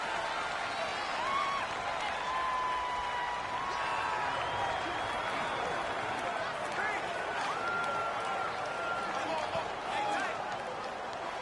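Roaring stadium crowd noise in the Madden 19 football game, Green Bay Packers against Chicago Bears, makes a dense, continuous wash of cheering and whistling that runs throughout under speech.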